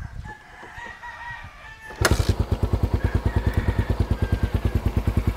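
A carbureted Suzuki Raider motorcycle engine starts up and runs close by, its exhaust thumping in a loud, steady, rapid pulse. A rooster crows faintly in the background before and during the engine noise.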